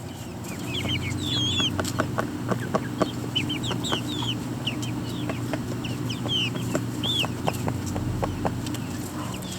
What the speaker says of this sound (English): So this is my chicken coop.